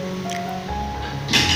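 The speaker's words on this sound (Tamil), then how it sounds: "கத்திரிக்காயையும் தக்காளியும் மத்து வச்சு நான் நல்லா கடைஞ்சிக்கிறேன்." Cooked brinjal and tomato are mashed with a wooden masher, giving soft, wet squishing and sloshing sounds at close range, with a brief brighter splash near the end and no talking.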